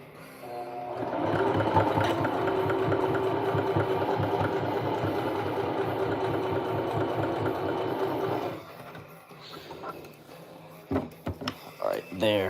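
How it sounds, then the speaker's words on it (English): A sewing machine stitches fabric in a steady, fast mechanical whir that runs for about eight seconds, then stops. Handling clatter and light movement noises follow. "I'll sew this in the middle, and then it'll be good."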